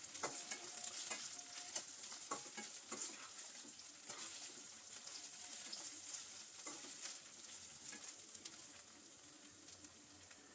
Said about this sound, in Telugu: వీటిని నెమ్మదిగా కలుపుకోవాలండి మీడియం ఫ్లేమ్లోనే ఉంచి మనం దీన్ని వేయించుకోవాలి